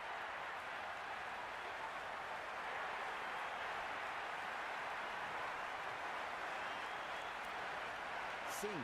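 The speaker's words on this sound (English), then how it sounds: "It's almost palpable, the excitement emanating from this crowd at the moment." Excited crowd at an India versus South Africa World Cup cricket match, a steady, dense wash of cheering and roaring that holds at an even level throughout, distant and broad with no single voices standing out.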